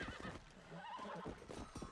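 A legendary horse in Red Dead Redemption gives a faint whinny with soft hoof clopping, quiet and set back in the game's ambience.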